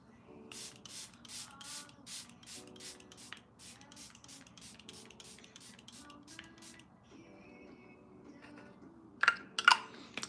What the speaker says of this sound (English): Let's just spray it because we're done.